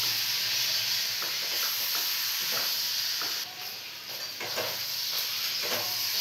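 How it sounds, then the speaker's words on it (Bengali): Pointed gourd, potato and paneer curry sizzles and fries steadily in a pan, with occasional soft stirring scrapes over a continuous bright hiss, close and fairly loud throughout. "ভেজে নেব আবারও।"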